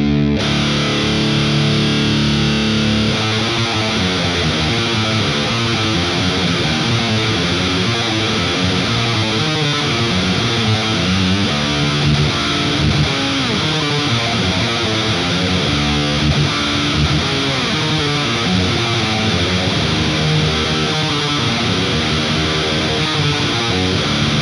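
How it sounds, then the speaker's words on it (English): Electric guitar pushed through an HM2-style Left Hand Wrath distortion pedal, giving a thick, buzzing, saturated tone played continuously and loudly for the whole stretch with no talking. "So we're going to kick on this HM2. It's called the Left Hand Wrath."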